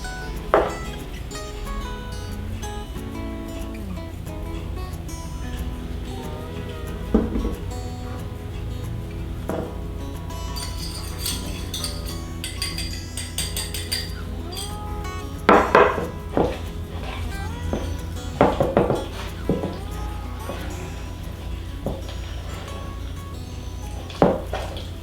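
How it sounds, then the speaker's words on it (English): A utensil clinks and scrapes against a bowl while eggs and maple syrup are beaten together, a continuous close clatter of whisking with scattered louder knocks against the rim and a low steady hum behind it. "I'm mixing this even though I don't have all the ingredients in here yet."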